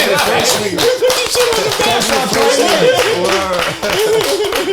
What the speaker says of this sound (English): can I get a round of applause for the first Southside?